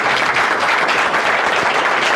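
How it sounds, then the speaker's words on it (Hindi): Audience applause at a sales and recruitment gathering for a shop business, dense steady clapping from many hands filling the whole stretch, loud and close with no talk over it. "एक बार ताली बजा दीजिए इनके लिए भी।"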